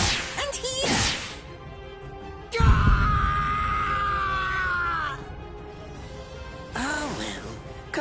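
A male character in the Bleach Rebirth of Souls video game screams in pain, a long strained cry held for several seconds between whip-like whooshes and impacts, with game voices and sound effects around it.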